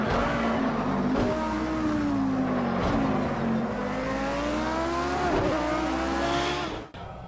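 A Lamborghini Super Trofeo race car in Project Cars 2 holds full throttle. The engine roars loud and steady through rising and falling gear pitches, with faint tire squeal, then cuts off sharply near the end.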